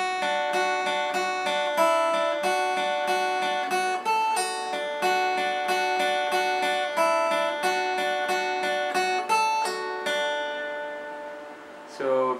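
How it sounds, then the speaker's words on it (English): Clean electric guitar riff, rhythmic picked chord pattern around D repeating steadily, bright and close, ending with a final strum and no voices. "there is a clean riff and that sounds like this."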